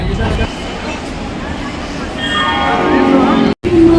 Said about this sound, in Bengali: এই যে কুম্ভমেলা স্পেশাল যে ট্রেনটা সেটা আমাদের ট্রেন এই ঢুকছে